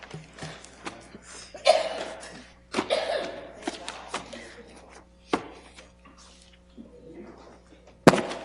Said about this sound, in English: I'm coughing, actually. Coughing.